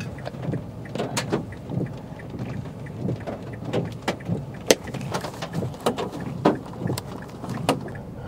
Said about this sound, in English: These are very solid pieces of hail coming down.